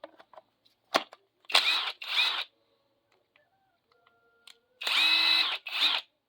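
A Makita, Einhell or Chinese impact wrench under test fires in short bursts: two quick runs, a long pause with faint clicks, then two more loud bursts close by.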